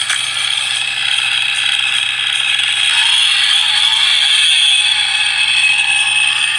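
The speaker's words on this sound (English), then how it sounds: "The pulley pauses the game with sound effects and lights." A pause pulley on a third-party Nintendo controller plays a steady, bright electronic ratcheting sound effect, loud and continuous with no one talking over it.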